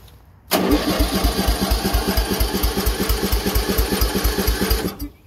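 The engine of a 15-inch gauge locomotive is cranked by its starter for about four and a half seconds, a loud, steady rhythmic chugging that stops abruptly without catching.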